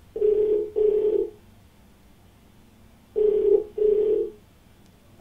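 Telephone ringing on a TV call-in show, two pairs of loud electronic ring bursts separated by a pause, alone with no voices.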